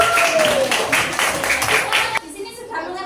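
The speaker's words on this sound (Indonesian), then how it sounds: "Ayo, beri tepuk tangan ke Mas Hafiz" A primary-school class claps for a classmate. The brief scattered clapping comes with children's voices and is cut off abruptly partway, leaving quieter room sound and a little talk.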